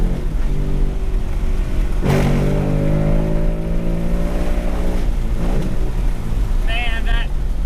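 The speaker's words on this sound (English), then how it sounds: "engine and that intake noise is just so brutal sounding." A Ford Mustang GT Performance Pack V8 runs with a loud, steady engine drone and intake roar, rising in pitch through a rev around the middle, while people talk over it.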